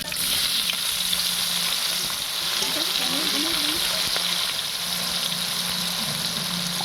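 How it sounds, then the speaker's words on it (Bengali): Onions going into hot oil with chopped bay leaves and chillies, giving a loud, steady, continuous sizzle throughout, with no voices. "লঙ্কাটা তেজপাতাটা ভাজা হয়ে যেতে আমি পেঁয়াজটা দিয়ে দিচ্ছি"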